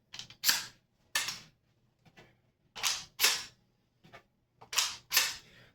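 A Mossberg Maverick 88 pump-action 12-gauge shotgun being loaded with snap caps and pumped: sharp, loud metallic racking clacks in close pairs, about three double strokes with softer clicks between, no talking.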